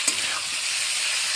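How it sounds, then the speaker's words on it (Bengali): Broiler chicken pieces fry in a pan with green chilli, cumin paste and ginger paste, giving off a steady, close, hissing sizzle with no voices. "মাংস ভাজা আছে"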